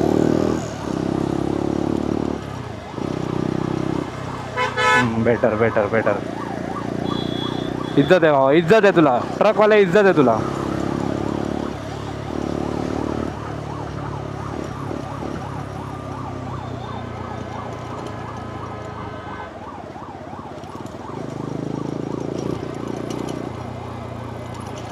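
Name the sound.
ambulance siren in traffic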